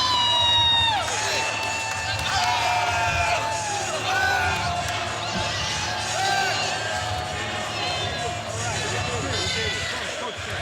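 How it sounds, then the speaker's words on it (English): A boxing crowd at OTX 15 cheers and roars steadily throughout a fight night, a dense wash of voices and whoops under a commentator talking. "The crowd is loving it."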